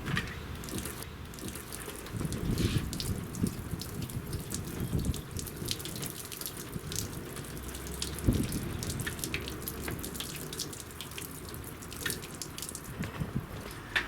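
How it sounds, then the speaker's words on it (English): Water splashes and trickles steadily across waxed car paint, with scattered drips and patters continuing throughout, no voices. "let's see what happens when a properly waxed car has got water on it"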